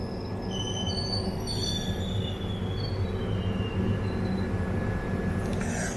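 A Tambaram superfast express train sits at a station while a train crosses on the opposite line, its wheels squealing in high metallic tones over a loud, continuous rumble.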